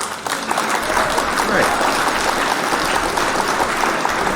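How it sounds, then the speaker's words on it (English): A dense burst of applause, many hands clapping at once, holds at an even, fairly loud level from start to end, with a brief spoken word near the beginning. "Hit the claps for that."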